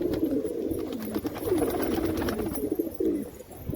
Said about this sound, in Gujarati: અને બીજા કબૂતર મોજ મસ્તી કરે છે.